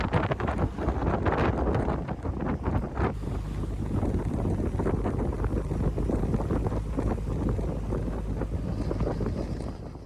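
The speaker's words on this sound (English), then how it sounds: "I must say, it does get quite windy." Strong wind buffets the microphone in a continuous loud rumble with gusty surges, no voices over it.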